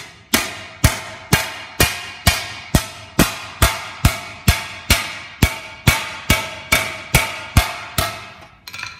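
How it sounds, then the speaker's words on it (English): A round-faced hammer strikes metal on the edge of an anvil in a steady series of about sixteen sharp, ringing blows, evenly paced and close, each decaying before the next. "switch to a round-faced hammer on the edge of the anvil"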